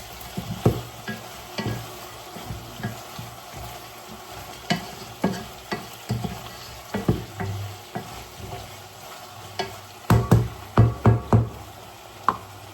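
Chicken pieces frying in a pan with a continuous sizzle, broken by repeated scraping and knocking strokes of a utensil as the meat is stirred, growing busier toward the end.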